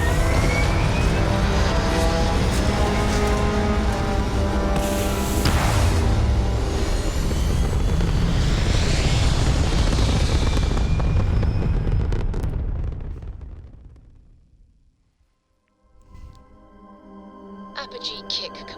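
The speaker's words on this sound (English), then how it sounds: "Initiating takeoff procedures." A spaceship lifting off in Starfield: a dense, loud roar of thrusters and rumble that holds for about twelve seconds, then fades to near silence before faint sci-fi tones return.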